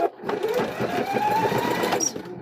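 A sewing machine stitches around a fabric door stop, a steady fast mechanical whir running continuously at close range.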